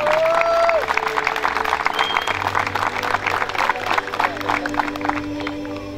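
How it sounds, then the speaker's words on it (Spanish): Sustained applause for a sports club delegation at the opening ceremony of a football championship in Tirúa, a steady dense patter of many hands with crowd noise and a low hum underneath. "Un fuerte aplauso para la delegación del Club Atlético Tirúa"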